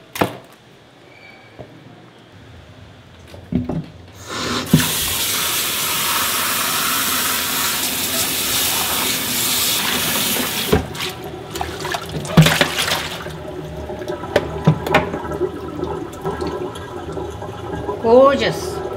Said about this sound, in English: I rinse this in cold water because otherwise all this skin is going to be all easily peeled off.